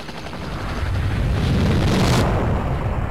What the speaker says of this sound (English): in our dinky little helicopter that'll be totally unfazed by this massive explosion